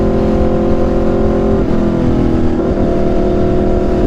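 An Aprilia RSV4 motorcycle fitted with an SC-Project exhaust accelerates hard, its loud engine drone climbing in pitch with brief dips at gear shifts, close and continuous with no talking.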